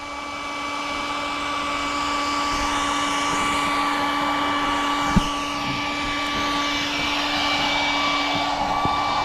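An electric pump hums and whines steadily as it inflates an inflatable river raft, a constant droning motor tone with a brief click partway through and no talking.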